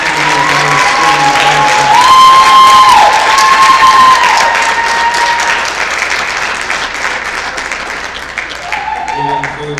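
Audience at a college signing event claps and cheers loudly, with whoops and shouts over sustained applause that swells early and then slowly fades, close and full in the room.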